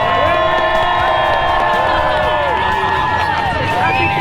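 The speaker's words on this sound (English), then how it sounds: "the crowd was really into the parade" Loud, close crowd cheering and whooping at the Macy's Thanksgiving Day Parade in cold weather, with children shouting, scattered clapping and shrill whistles over a dense outdoor roar.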